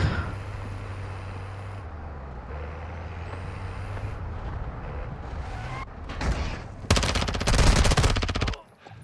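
Automatic gunfire rings out in a Warzone match. After a quieter stretch of ambient game noise, loud rapid bursts erupt and build near the end, then cut off abruptly.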